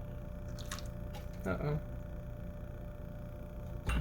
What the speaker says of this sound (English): And I'm going to pour just a tad out of this jar.